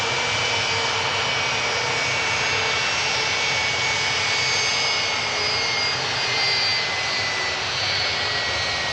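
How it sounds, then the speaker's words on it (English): A jet airliner taxis toward Terminal 2 at an airport, its engines giving a loud, steady roar and high whine that stay constant throughout with no voices. "now the second one as well, commences its taxi over to T2"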